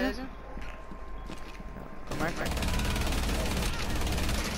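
Rapid gunfire from a Rainbow Six Siege match, starting quiet then swelling into loud, sustained bursts in the second half, with game ambience and a voice talking underneath.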